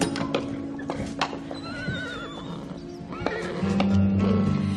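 A horse in a stable whinnies with a rising and falling neigh, joined by hoof clops and stable noise, with a low steady hum coming in near the end.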